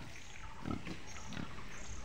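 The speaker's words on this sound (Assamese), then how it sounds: "গাহৰিকেইটা দেখাই দিওঁ" Pigs newly bought from a farm grunt twice at close range, short low snorts standing out from a steady background hiss.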